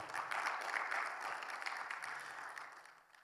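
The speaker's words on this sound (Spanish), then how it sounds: "Denle un fuerte aplauso al Señor, por favor." A church congregation at a Bible seminar claps together for a few seconds, a soft, dense patter heard from a distance that thins out and fades at the end.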